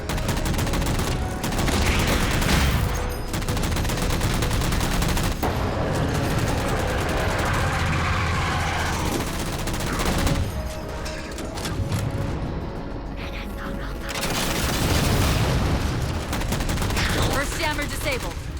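Loud, sustained Halo 4 gunfire as jammers are shot down: dense automatic bursts and rapid shots run almost continuously, with brief lulls and flare-ups, over a busy battle din.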